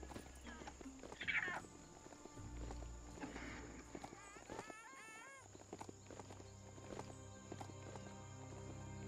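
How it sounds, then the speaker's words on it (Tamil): Mechanical horse hoofbeats in the game Biomutant, a steady clip-clop of hooves at moderate distance, fairly quiet, with someone talking over it and other game sounds in the background. "மெக்கானிக்கல் குதிரை இருக்கு நமக்கிட்ட இப்போ."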